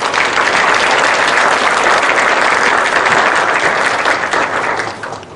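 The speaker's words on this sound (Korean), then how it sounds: "다시 한번 뜨거운 박수 부탁드립니다." Sustained, loud applause from a lecture audience in a hall at a public humanities talk, a dense wash of clapping that holds steady for several seconds before tapering off at the end.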